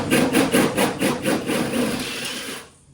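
A power drill with a 13mm bit bores a hole in a ute's body, giving a close, loud grinding with rapid rhythmic pulses before it cuts off and falls quiet.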